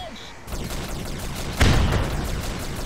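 Mounted guns firing in Rogue Trooper, a steady run of rapid shots with one heavier blast partway through, loud and sustained under game ambience.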